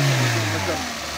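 A Peugeot 206 car engine running close by, a steady mid-pitched motor drone that eases slightly as the revs settle, with people talking over it.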